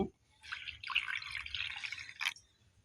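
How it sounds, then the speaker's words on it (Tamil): Water is poured onto flattened rice (aval) while preparing milk kozhukattai, a close, soft trickling splash lasting about two seconds. "இப்போ தண்ணி ஊற்றி இதை ஒரு அஞ்சு நிமிஷம் ஊற வைங்க"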